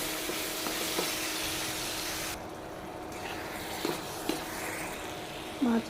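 Onion, garlic paste, chili powder, turmeric and tomatoes fry in a pan with a steady, close hiss, broken by a few light utensil clinks and taps near the end.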